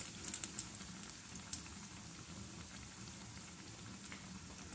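Bread pakora fries in hot oil with a steady, quiet sizzle and a few louder pops at the start, continuing evenly with no voices.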